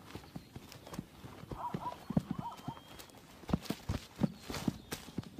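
Wild horses, harem mares and stallions, move about during the breeding season, hooves clip-clopping irregularly with soft whinnies mixed in, moderately close and fairly quiet.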